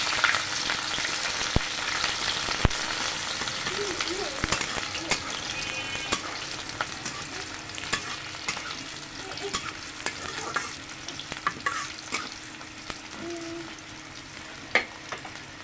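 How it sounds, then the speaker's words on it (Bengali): Onions frying in oil with cumin in a pan and being stirred, a steady soft sizzle broken by scattered scraping taps of the spoon, close and moderately loud with no speech. "পেঁয়াজ কষে আমি কিছুটা এখন দিলাম আর কিছুটা পরে দিলাম"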